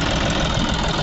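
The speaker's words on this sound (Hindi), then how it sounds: "उस गियर में ट्रैक्टर चल रहा है" A John Deere 5405 4WD tractor engine runs steadily in ploughing gear B2 at about 1500 RPM, pulling a Lemken reversible plough; a loud, continuous, dense diesel drone with no talk over it.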